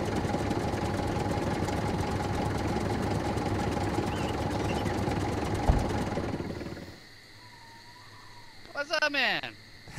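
A tractor engine idles steadily and loudly in the survival game Scum, a dense rumbling drone for about six seconds before it cuts out, followed by quieter sounds and a short burst of sweeping tones.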